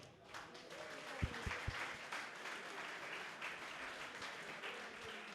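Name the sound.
audience applause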